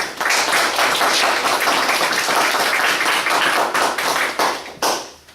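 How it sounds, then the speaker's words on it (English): A room of people gives a warm round of applause, dense steady clapping close by that thins into a few scattered claps before fading out. "a warm round of applause"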